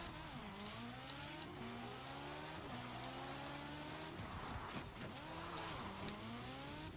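In a Forza Horizon 4 race, a game car's engine howls loudly and continuously, with revs sweeping up and dropping sharply at each gear change. Rough road and tyre noise sit underneath throughout, with no talk.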